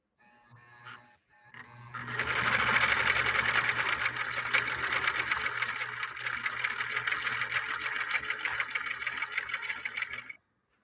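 A 1958 Husqvarna Viking Type 21 sewing machine stitches through six layers of commercial canvas, starting with a brief stutter and then running in a loud, steady, continuous whir for about eight seconds before stopping.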